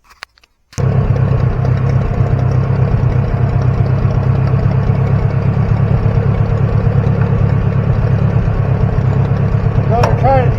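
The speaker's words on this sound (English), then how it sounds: "I'm going to fire the tractor up." An IH 2504 tractor engine cranks and catches after a brief quiet start, then settles into a loud, steady, low diesel idle that runs continuously to the end.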